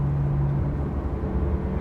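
A Porsche 991.2 GT3 RS exhaust with a side muffler delete drones in a low, steady rumble from inside the cabin, with a brief tonal hum at the start and no talking.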